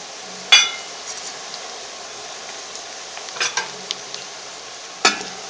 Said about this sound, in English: Now we are going to add in the coriander powder, the turmeric powder, and the chili powder.